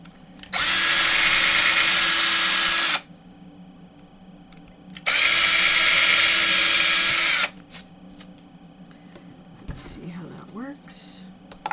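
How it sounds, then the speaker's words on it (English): Two separate bursts of a power drill boring holes through paper for bookbinding, each a loud, even whir of two to three seconds with a short pause between them. Light rustling and handling follow. "Trying not to drill a new hole"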